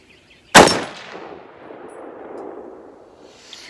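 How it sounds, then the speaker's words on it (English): One loud, sharp shot from a BCA Huntmaster .30-06 AR rifle firing range ammo at a bench, followed by a long ringing, echoing decay that fades slowly. "Let's fire off a shot."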